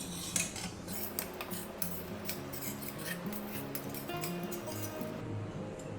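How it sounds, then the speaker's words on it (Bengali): Semolina being dry-roasted in a pan, a spatula scraping and tapping against the metal in quick, repeated strokes, close and fairly quiet, with a low hum underneath. "সুজিটা একটু রোস্ট করে নেব ভালো করে"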